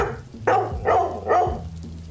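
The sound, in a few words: dog barking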